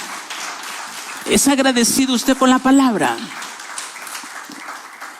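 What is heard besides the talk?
congregation clapping hands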